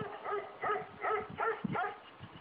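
A dog barks about five times in a steady rhythm, each bark short and nasal, fairly close and moderately loud.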